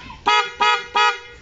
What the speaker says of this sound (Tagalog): Ito yung PIA horn.